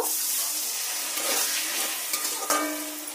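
A little water goes into spice masala frying in oil for a restaurant-style egg curry, giving a loud, steady sizzle and bubbling with a few sharper spits and clinks near the end.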